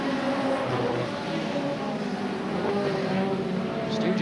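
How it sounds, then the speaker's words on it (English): Hot rod race cars racing at Ipswich Raceway in the 1983 Hot Rod World Final, a continuous loud engine roar from the pack circulating, with a commentator's voice faintly underneath. "So a sad day for George Polly, now being lapped by the lead car"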